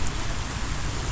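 Rain falls during a fishing trip, a loud, dense, steady hiss of drops on surfaces filling the short moment with no voices.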